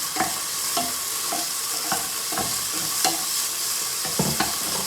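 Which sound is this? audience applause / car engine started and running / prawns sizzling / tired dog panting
prawns sizzling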